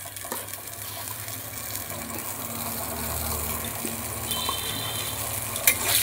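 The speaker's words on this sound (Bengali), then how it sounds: "জল দিয়ে দিলাম, জল দিয়ে একটুখানি নাড়াচাড়া করে" Water pours into a cooking pan of bottle gourd peel, a low, steady gushing wash close by that runs the whole time, with faint stirring clatter and no speech.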